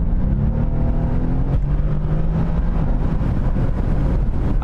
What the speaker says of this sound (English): I love when this car shifts.